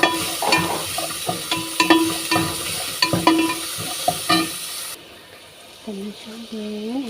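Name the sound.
mixing ingredients in a pan while cooking fish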